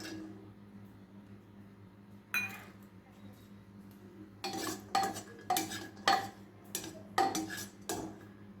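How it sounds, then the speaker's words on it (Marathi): Garlic roasting in a pan over a low gas flame, with a quiet stretch followed by repeated close metallic scrapes and clinks of a spoon stirring against the pan, some faint talk beneath. "लो गॅसवरती आपल्याला लसूण भाजून घ्यायचा आहे 1 मिनिट।"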